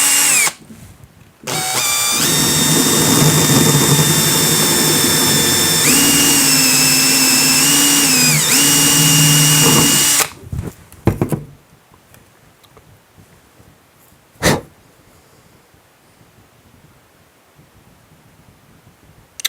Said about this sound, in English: This is a bendy drill bit.